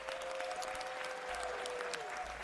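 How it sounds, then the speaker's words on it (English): An audience at a city council meeting applauds for the founder of a film festival, producing sustained, moderately distant clapping across the room, with a faint tone and murmur underneath. "Yes, let's give him a big round of applause."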